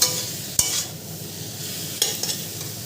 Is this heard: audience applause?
no